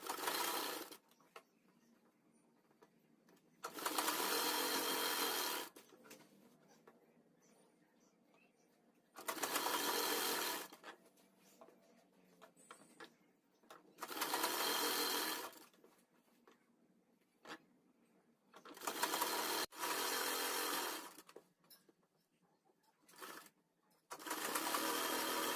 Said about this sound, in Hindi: तो चलिए अपनी सिलाई लगाना शुरू करते हैं।